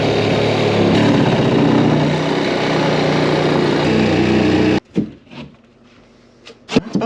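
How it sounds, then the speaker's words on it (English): Milwaukee 12-volt hacksaw cutting a hole in a warehouse wall, a loud steady buzzing saw for several seconds that stops abruptly, followed by a few scattered knocks and clatters. "we're gonna have to use the old Milwaukee, just the 12-volt hacksaw"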